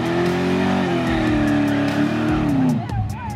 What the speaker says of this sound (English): Yeah, he doing another burnout.